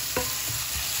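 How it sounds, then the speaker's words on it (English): Courgettes frying in oil with a constant close sizzle and a couple of light utensil scrapes. "the courgettes are just frying off"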